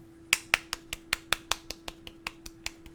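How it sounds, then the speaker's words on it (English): Sharp, evenly spaced claps or snaps, about a dozen in three seconds, close and fairly quiet, heard alone over a steady low hum during a Harry Potter book club reading. "You gotta clap again."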